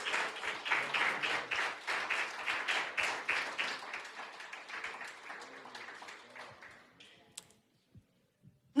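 A church congregation claps in praise, many hands at first in a loud, somewhat rhythmic burst that gradually thins and fades over several seconds, leaving a few scattered taps and near silence at the end.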